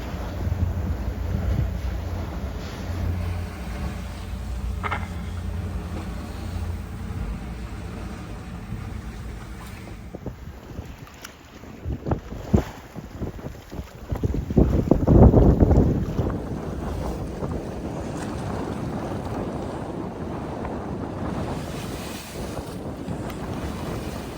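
A 9m sailboat beats fast upwind, hull slamming and water rushing past under constant heavy wind buffeting the microphone, with a loud surge of spray and waves midway.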